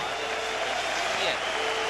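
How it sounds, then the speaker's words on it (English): Crowd at a 1999 World Championships men's singles table tennis semifinal applauding after a serve, a steady broadband wash of clapping and cheering with a commentator talking over it. "The crowd absolutely delighted with that one."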